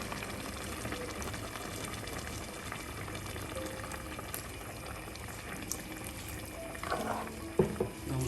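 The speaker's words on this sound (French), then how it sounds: "Je vais rajouter de l'eau." Water poured into a pot of shrimp broth simmering on the stove: a steady, faint bubbling and hiss throughout, with a slightly louder splash and clatter near the end.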